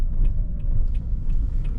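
A car rumbles at slow speed while making a tight right turn close to the curb, with a steady low engine and road drone heard from inside the car throughout.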